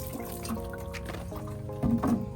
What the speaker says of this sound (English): So now I'm gonna add a little bit of water to the soil.